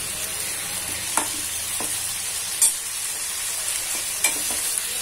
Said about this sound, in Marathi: थोडं थोडं परतायचं याला